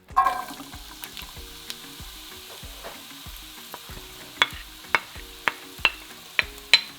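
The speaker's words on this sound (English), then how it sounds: "My oil has heated up. I'm going to go ahead and add in my onions." Onions sizzling in hot olive oil in a pan over medium-high heat, a soft, steady crackle with a regular series of sharp ticks and taps, close and fairly quiet.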